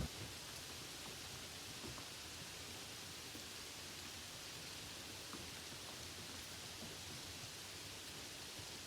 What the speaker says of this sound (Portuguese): enquanto a chuva cai lá fora